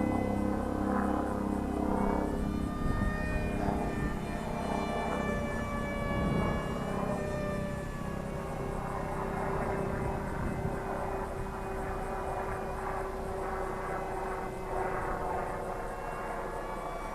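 Eachine F16 50mm EDF model jet with a pusher prop conversion, flying after launch at partial throttle outdoors: a continuous droning whine with steady rising and falling tones, fairly loud and unbroken, with no speech.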